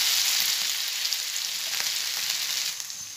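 Vanjiram fish frying in hot oil for an Andhra masala fish fry, a loud, dense, continuous sizzle that eases slightly at the end, with no voices.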